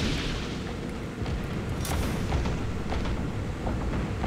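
Anti-aircraft guns aboard a warship in a naval combat game fire in a dense barrage, with repeated booms and sharp cracks layered over a constant low rumble of battle.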